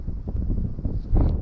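Wind gusting outdoors beside a forest river in March, rumbling steadily against the microphone with a stronger buffet near the end, with no voices.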